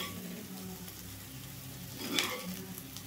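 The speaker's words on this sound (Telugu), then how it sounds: "గోల్డెన్ బ్రౌన్ కలర్ వచ్చిన దాకైతే వేపుకోవాలండి" Cauliflower pieces frying in hot oil until golden brown as a side dish, giving a steady, soft sizzle with light stirring and a brief louder scrape near the end.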